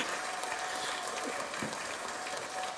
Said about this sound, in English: A long applause.